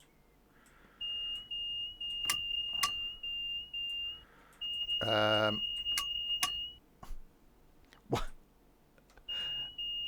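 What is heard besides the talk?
warning beeping in train cab, Train Sim World 2 video game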